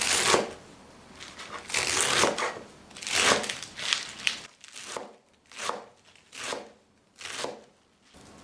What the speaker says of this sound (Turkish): Şöyle bir kenara alıyorum ve ıspanağımı doğruyorum.